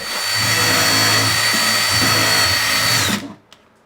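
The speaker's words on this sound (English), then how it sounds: "I'm going to need my little handy dandy right angle drill" A right-angle power drill whirs loudly and steadily for about three seconds while assembling kitchen cabinets, then winds down and stops.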